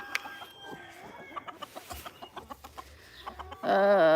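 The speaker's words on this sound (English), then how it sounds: "There was a bunch of chickens behind you." Chickens clucking nearby in a quick, rhythmic series of short clucks, ending with one louder, drawn-out squawk.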